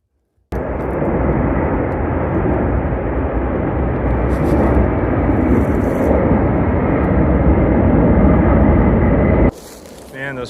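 Fighter jets roar low overhead above a swamp, a loud, sustained broadband rumble that holds steady for about nine seconds before cutting off abruptly.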